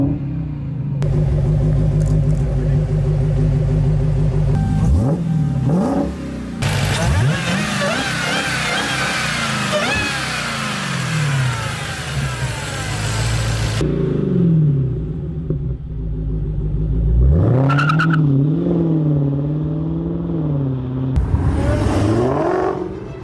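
A Mopar 6.2 Hellcat Hemi V8 rumbles and revs loudly and close, rising and falling through several throttle blips, with short pauses and a burst of high roar in the middle.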